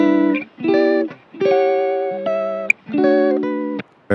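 Sampled guitar phrase run through cassette simulation, EQ and effects racks in Ableton, playing short chopped chord stabs in a halting rhythm with brief gaps and a sharp click near the middle.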